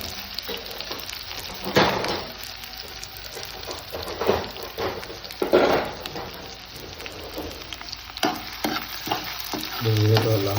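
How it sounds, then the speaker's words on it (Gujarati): Onion sizzling and frying in hot oil in a pan with dry garlic, a steady crackling hiss with occasional louder bursts and stirring scrapes, close and alone. "ડુંગળી પકડા દઈશું"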